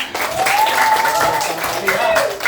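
Children in an Indonesian classroom clap their hands together in a brief burst of mixed, uneven claps. A teacher's voice rises over the clapping.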